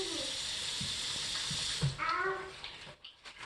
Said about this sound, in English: so now I'll put in water